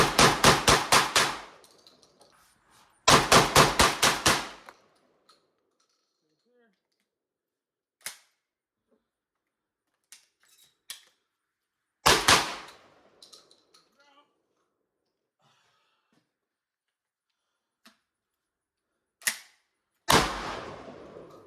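A Panzer Arms shotgun fires during a torture test, sounding as loud, sharp blasts in quick close bursts of several shots each, separated by silences and by sparse clicks and handling noises.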